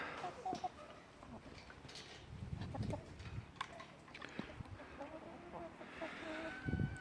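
Chickens clucking softly in a finished allotment chicken pen, a few low, faint clucks scattered over quiet outdoor background noise.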